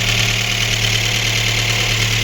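A Daewoo Lanos 1.5 petrol engine, just back from a cylinder head repair, idles steadily and evenly at close range, with a constant low hum and no misfire or knocking.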